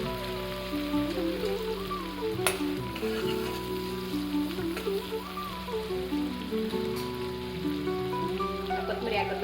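Cumin and coriander frying in a pan for jeera rice, a soft steady sizzle under a busy kitchen background with humming tones, one sharp click partway through.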